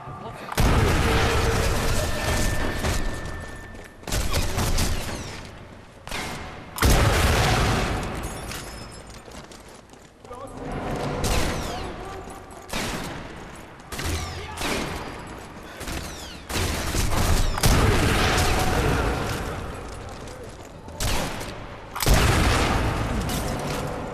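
Explosions from a grenade-like launcher that fires in an arc in Sniper Elite 4, heard as a series of heavy booms in repeated bursts with rumbling decays, mixed with rapid gunfire across a dockyard battle.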